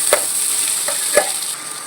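Grated raw mango sautéing in a pan with curry leaves for a sweet Tamil mango pachadi: a steady low sizzle with a few sharp stirring scrapes of the spoon, close by, with no talking.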